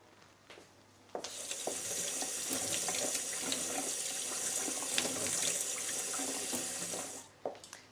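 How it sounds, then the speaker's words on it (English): Running cold tap water pours steadily over rice in a sink for several seconds, a constant close hiss and splash that starts abruptly and cuts off near the end. "rinse it under the cold tap until the water runs clear"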